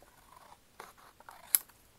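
Scissors cut through printed photo paper, giving a few short snips and one sharp crisp cut near the end, close up and quiet, with no talking.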